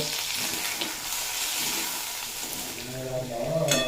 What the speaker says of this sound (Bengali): এর সমস্ত উপকরণ খুব ভালোভাবে একসঙ্গে ভেজে কষিয়ে নেব